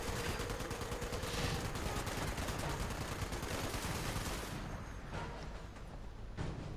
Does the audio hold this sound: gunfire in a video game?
yes